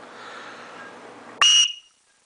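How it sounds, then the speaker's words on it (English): An emergency whistle gives one short, sharp, piercing blast, loud and close, after a stretch of quiet background hiss, then silence. "that's pretty loud for a whistle"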